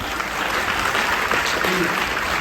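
Test round of applause from an audience at a recognition night event, a steady dense patter of clapping lasting a few seconds with no words spoken over it.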